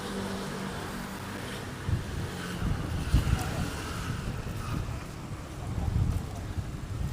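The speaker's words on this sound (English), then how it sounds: "Ah, the headwind." A headwind roars steadily into the microphone while riding outdoors in San Francisco, a broad, buffeting rush with gusts that swell and fade and no clear speech on top.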